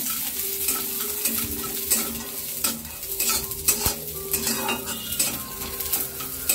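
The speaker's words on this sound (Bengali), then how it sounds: "বাদামগুলো দিয়ে দিচ্ছি আর নারকেলগুলো একদম হালকা করে একটু ভেজে নেব" Nuts and coconut crackle gently in hot oil in a pan, with a steady close sizzle broken by scraping stirs and light metal clinks of a spoon against the pan.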